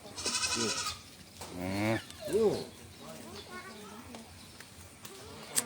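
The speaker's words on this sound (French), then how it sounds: "Après, on va aller voir les petites chèvres." Young goats on a farm in Isan, Thailand, bleat several times in wavering, close cries, with a few softer calls following and people talking quietly underneath.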